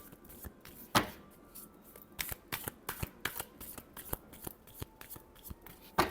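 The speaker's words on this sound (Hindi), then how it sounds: "Last shuffle." Tarot cards being shuffled in the hands: a run of crisp, riffling snaps and flicks, with sharp louder slaps near the start and at the very end, close and alone without voices.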